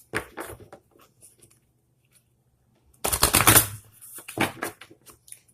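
Oracle card decks, including a numerology deck and a crystal healing deck, shuffled by hand, with short crisp riffling bursts and a louder flurry of card snaps near the end, close and alone.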